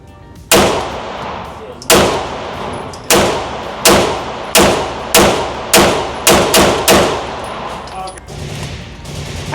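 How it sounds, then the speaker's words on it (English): A Staccato pistol fires ten sharp, loud shots at a Texas gun show, each crack ringing out briefly, the first few spaced apart and the rest coming in a quicker string. "Let's take 10 shots."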